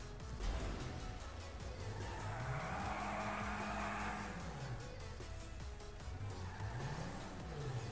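A car in the video game GTA 5 drives steadily with a continuous engine drone, its pitch rising and falling, while tires squeal through the middle of the stretch, loud and close with no talk.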